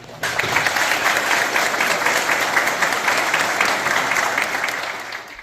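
An audience applauds a guest at a live cultural broadcast, a thick, even wash of many hands clapping that starts abruptly and holds strong for about five seconds.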